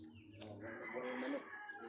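A live chicken clucking in a short, close burst of throaty calls, with faint background noise.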